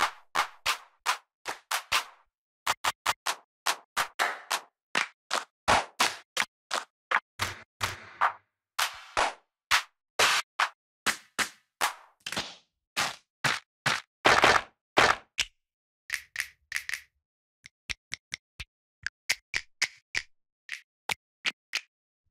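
Electronic clap and snap samples from the Big Fish Audio SMACK percussion library, a rapid series of sharp, dry hits played one after another in short runs separated by brief pauses.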